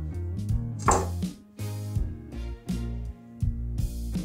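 A knife cuts through a raw acorn squash laid flat on a board, a few heavy close thuds and pressing crunches spaced about half a second apart.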